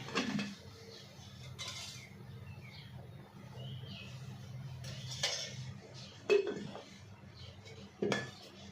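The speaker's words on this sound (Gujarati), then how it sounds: "અમે 1 ચમચો ચણાનો લોટ લીધો છે, જે આ તપેલીની અંદર આપણે શેકી લઈશું।" A spoon scrapes and clinks against a pot while gram flour roasts in a little oil over a medium flame, with sparse metallic taps and soft scraping, quiet and close, with no talk.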